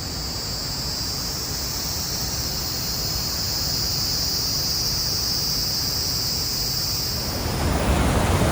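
Cicadas or birds droning all around near Iguaçu Falls, a dense continuous high buzzing over a broad rushing wash of water, steady and loud throughout.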